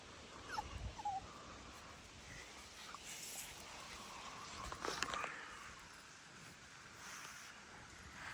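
Pit bull puppies in a yard whimper and yip faintly in short, scattered bursts over a quiet, breezy outdoor background.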